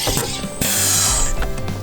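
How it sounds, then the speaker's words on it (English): A SodaStream carbonates a bottle of tap water: a loud, close burst of pressurized hissing and buzzing with mechanical clicks, steady for under two seconds. "it's got a carbonation tank that's gonna make it carbonate"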